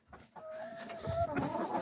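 Backyard hens cluck and murmur close by in a short burst, a rising warbling call followed by soft throaty clucks, with no talk over them.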